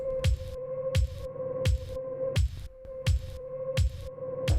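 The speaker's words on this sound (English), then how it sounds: "And also you get this pumping effect." Synth pad pumping hard under extreme sidechain compression from a kick drum, a steady pulsing rhythm of about seven thumps where the sustained pad ducks and swells after each beat.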